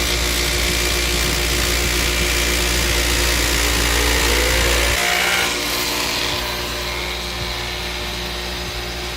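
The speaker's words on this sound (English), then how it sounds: "it's a grinding wheel, but it's got a polisher on it" A grinding wheel fitted with a polisher runs loud and steady with a heavy motor drone and a bright whine. About halfway through, the power cuts and the wheel spins down, its pitch falling. No speech.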